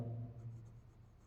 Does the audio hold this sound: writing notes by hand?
yes